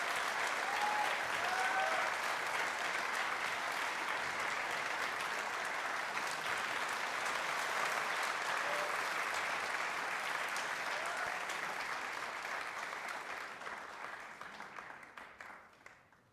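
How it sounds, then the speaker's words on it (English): An audience at an Indian community gathering in Vienna gives sustained applause for the guest of honor, a dense steady wash of clapping that fills the hall and fades out toward the end. "a big round of applause for our guest of honor"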